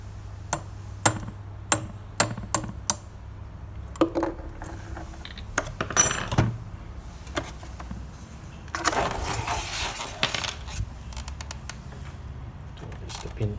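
A hammer taps a screwdriver bit used as a punch to drive the pin out of a KitchenAid stand mixer's planetary hub, giving a series of sharp, irregular metallic knocks close by, with a louder burst of handling noise partway through.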